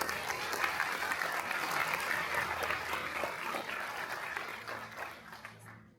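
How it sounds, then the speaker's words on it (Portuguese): Congregation applause in a church: a sustained wash of many hands clapping, moderately distant and fairly soft, holding steady for several seconds before thinning out at the end, with no talk over it. "Dê um aplauso ao Senhor Jesus."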